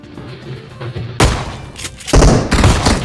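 A grenade blast in PUBG Mobile lands as a loud, close thump, followed by further heavy bursts and booms over a couple of seconds.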